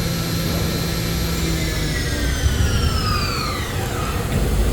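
Mazak HCN 8800-II horizontal machining center spindle spinning up toward its 10,000 RPM maximum, a loud continuous high whine with rising and shifting tones over heavy broadband machine noise.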